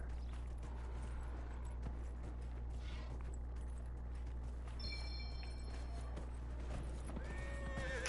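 A summoned horse in the fantasy game Dragon Age: Inquisition gives a clear whinny and clip-clops along over a steady low ambient drone.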